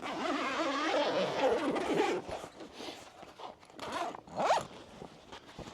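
Zipper pulled open along the robust canvas of a Khaya camper at bed-platform height, a long rasping run followed by a few shorter tugs and fabric rustles, close and fairly loud with no talk.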